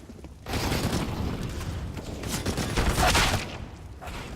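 Gunfire in a Counter-Strike match: a loud, dense wash of shots and impacts that swells near the start and holds for about three seconds before easing off. No voices.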